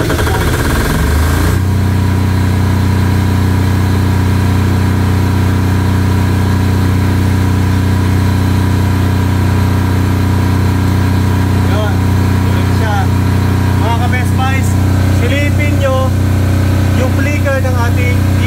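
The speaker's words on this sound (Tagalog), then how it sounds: "Ngayon, dapat mabubuhay si generator." A 10 kVA silent-type diesel standby generator runs steadily after mains power is cut, a loud continuous low engine hum that settles in after a rough start, while a voice talks over it.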